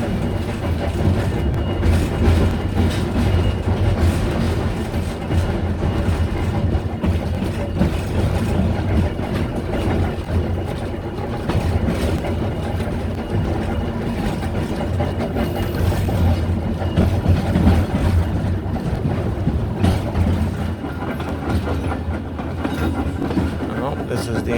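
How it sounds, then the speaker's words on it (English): A trolley rolls along the old Broad Top Railroad at Rock Hill Furnace, a continuous close rumble with rhythmic clickety-clack from the rails carrying through the whole ride, and people talk faintly under it. "trolley ride at Rock Hill Furnace, the old Broad Top Railroad"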